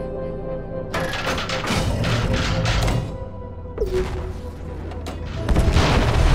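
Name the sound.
repulsion torpedo explosions hitting enemy battleship in space battle video game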